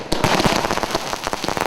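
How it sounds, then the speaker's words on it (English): Firecrackers crackle and pop on Deepavali morning before dawn, a dense, continuous string of sharp bangs close by, with no voices. "After the morning cleansing comes the first bit of firecrackers just before the new dawn."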